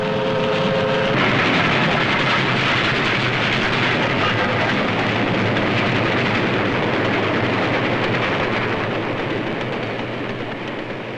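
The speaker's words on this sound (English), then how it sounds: "The men going to work can see the freight trains bringing in the raw materials: iron ore, coal, and limestone." A freight train carrying iron ore, coal and limestone to Youngstown steel mills during World War II rolls past in a continuous, loud rumble with steady wheel clatter throughout, on an old film soundtrack.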